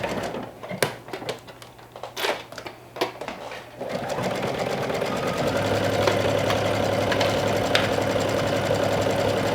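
A sewing machine stitches a garment neckline, starting with a few sharp clicks and handling noises before settling into a steady, close mechanical whir that runs to the end.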